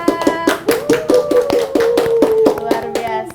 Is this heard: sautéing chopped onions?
no